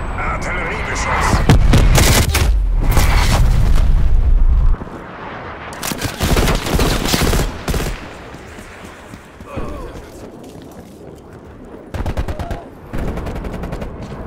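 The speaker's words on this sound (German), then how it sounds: "Artillerie entdeckt. An alle. Artilleriebeschuss." Artillery bombardment in a Call of Duty Black Ops Cold War team deathmatch: heavy, rumbling explosions and dense gunfire crash loudly for several seconds, then come back in shorter bursts, with voices speaking in between.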